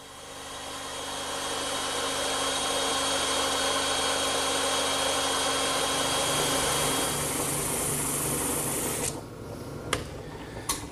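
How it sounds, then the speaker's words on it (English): A bandsaw cuts a curved line through a 2x4 bench rail, a steady loud whine and motor hum running nearly unbroken, then spinning down into quieter intermittent noise near the end. "that's another job for the bandsaw."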